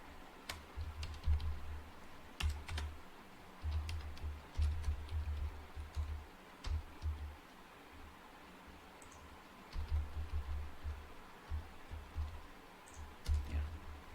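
Code being typed on a computer keyboard, steady bursts of soft, close key clicks with short pauses between runs and no talking.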